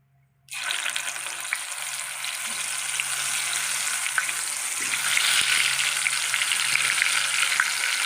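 Pieces of gram-flour patrode drop into hot oil after a brief silence, and a loud, steady deep-fry sizzle starts at once and holds close by, swelling slightly as more pieces go in.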